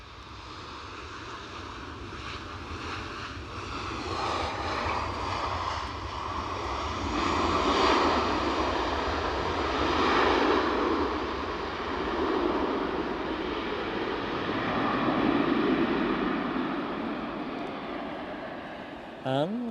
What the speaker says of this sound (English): And we've got another JetBlue on the move.